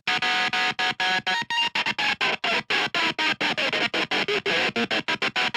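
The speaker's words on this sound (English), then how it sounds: "we actually used a Gibson Les Paul because we wanted to turn the volume down on one of the pickups" Distorted Gibson Les Paul guitar chopped into rapid rhythmic bursts by flicking the pickup selector as a kill switch with one pickup turned down, loud stuttering on-off gating alone.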